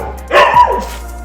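Dogs give a short, close bark with a brief yelping tail, one quick burst standing out over a quiet steady background.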